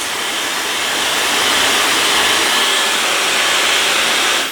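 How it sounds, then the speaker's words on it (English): A hairdryer on its cool setting blows continuously close by, drying skin around the eye with a loud, steady, even rush of air and no talking. "Or you can use a hairdryer on cool setting, like this one, to just dry it."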